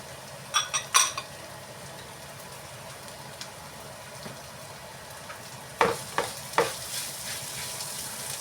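Okra stir-fried in a pan with onion, curry leaves and salt, a soft continuous sizzle punctuated by a few clustered scrapes and taps of a spoon stirring, one group early and another near the end.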